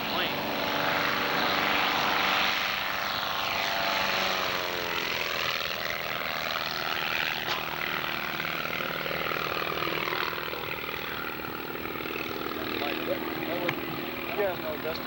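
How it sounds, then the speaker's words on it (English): Crop-spraying airplane passing overhead, a droning propeller engine whose pitch sweeps down as it flies by, with people talking over it. "You've probably seen the plane."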